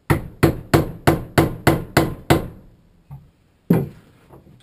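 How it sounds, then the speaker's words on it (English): A hammer drives something down into a piece of green hornbeam wood in a steady run of about eight sharp, close knocks, then pauses before one more solid blow, with no talking. "So I'm going to hammer that down in there"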